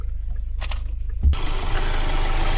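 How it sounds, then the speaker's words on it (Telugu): A 2021 Kia Sonet HTX diesel car engine runs steadily, a low continuous rumble that rises slightly in intensity partway through, heard up close with no talking. "ఒకసారి ఇప్పుడు ఇంజన్ సౌండ్ ఎట్లుంది అది కూడా చెప్తాను నేను."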